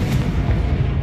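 The Confringo fire spell goes off in Hogwarts Legacy as a loud, rumbling explosion with a heavy low boom that holds steady through the brief moment.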